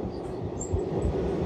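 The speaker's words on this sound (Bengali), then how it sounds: "এই ট্রেনটা ব্ল্যাক ডায়মন্ড এক্সপ্রেস প্রায় 12 মিনিট লেটে চলছে" The Black Diamond Express passenger train runs steadily on its tracks in India, a loud continuous rumble of wheels and carriages heard alone without talk.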